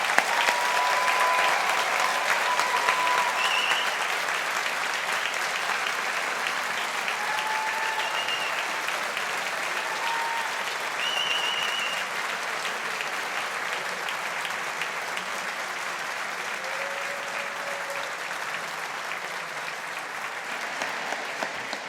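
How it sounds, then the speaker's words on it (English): A large audience applauds engineering graduates at a university degree ceremony in a hall, steady sustained clapping from a big crowd lasting throughout and easing slightly toward the end. "Let's give all our graduates a big round of applause."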